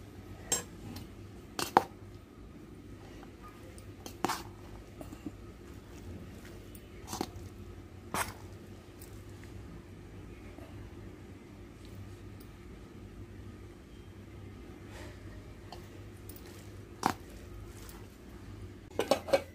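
A spoon scrapes and clinks against a pot or bowl while cooked rice is mixed with tamarind sauce for pulihora. The clinks are soft and come at irregular intervals over a quiet background hum.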